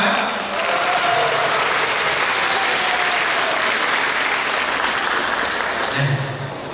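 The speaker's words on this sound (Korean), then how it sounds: "우리 모두를 위해서 한번 박수할까요?" A large outdoor audience applauds continuously at an amateur choir festival in an open-air concert hall, a dense steady wash of clapping that fades slightly at the end.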